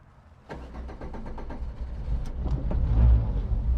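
A carburetted Peugeot 205 catches with a sudden start, then settles into a steady, slightly uneven idle that grows a little louder, heard close up with no talking.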